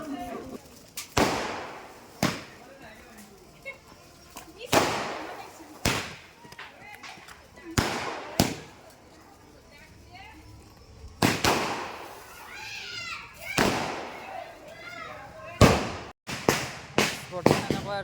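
Firecrackers and rocket bombs burst during Kali Puja and Diwali celebrations, sharp loud bangs at irregular intervals, some near and some distant, with people talking in the background between the blasts.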